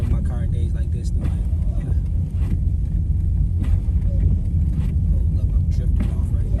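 A V6 Dodge Charger driving through a snow storm gives a steady, close low rumble of engine and road noise with wind buffeting, continuous and loud throughout.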